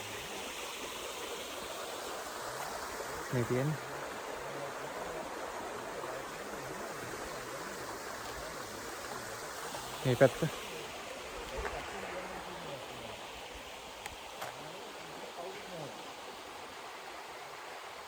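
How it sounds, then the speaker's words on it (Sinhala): Water from the Ridiwita Ella waterfall flows beneath a small bridge as a steady, continuous stream rush, with low water flow. Someone speaks briefly over it. "මේ පාලමෙන් තමයි දියැලේ වතුර පල්ලෙහාට ගලාගෙන යන්නේ."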